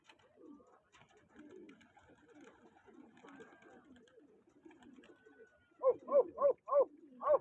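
Pigeons coo in a burst of loud, close, rhythmic calls near the end, after a stretch of low murmuring voices and background chatter at what appears to be a pigeon-flying competition.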